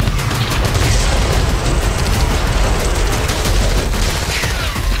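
Dense, continuous low booming and crackling blasts rumble throughout in southern Lebanon, like a barrage of distant explosions mixed with rapid gunfire, with no clear pauses.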